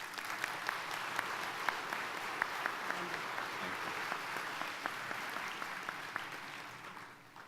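An audience at a summer commencement ceremony applauds to welcome a speaker, giving steady, moderately distant clapping from many hands that holds for several seconds and then tapers off at the end.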